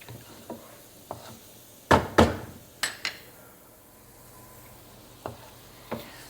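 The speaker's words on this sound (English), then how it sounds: "the onions and the peppers were cooking on a medium flame" Onions and peppers cooking in a pan over a medium flame, a faint background sizzle punctuated by sharp clacks and scrapes of a utensil stirring against the pan.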